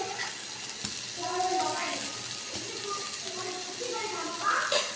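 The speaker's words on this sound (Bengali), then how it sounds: "এখন বেগুনগুলো উল্টাই নিব, ভালো করে উল্টা পাল্টা করে নিব।" Eggplant slices frying in oil in a pan while being turned over, a steady close sizzle with occasional light clinks and scrapes of the utensil.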